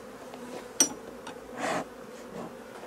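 Honeybees buzz around a hive as the bee escape board is lifted off during a summer honey harvest: a steady low hum, a sharp knock, then a brief scraping rustle.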